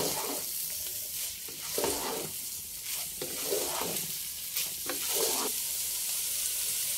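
Washed polao rice goes into hot oil in a home kitchen pan, giving a steady sizzle broken by repeated scraping stirs roughly every second, close and without talk.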